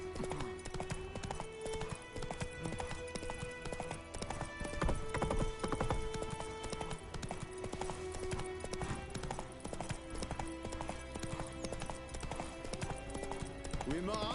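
Horse hooves clip-clop in steady rhythm in the Witcher 3 video game, sitting under constant game music with an occasional whinny and brief voices speaking.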